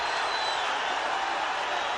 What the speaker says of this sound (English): Crowd roaring at the Forum as Barrera winds up.